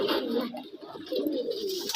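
A white-tailed female pigeon coos steadily and close by, a soft low throaty murmur that carries on through the whole moment.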